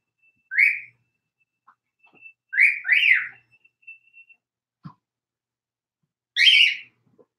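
A pet bird whistles in short bright phrases, three clear bursts spaced a few seconds apart with quiet gaps and a faint tick between them, indoors and fairly close.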